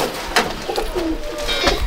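Madrasi racing pigeons at a village loft coo softly and steadily in close range, with faint rustling and background noise and no voices.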